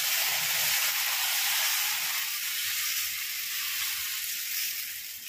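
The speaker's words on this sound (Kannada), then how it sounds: "ಈಗ ದೋಸೆ ಹಾಕ್ತಾ ಇದ್ದೀನಿ." Dosa batter sizzling steadily on a hot tawa, a loud, continuous frying hiss that holds even throughout with no talking.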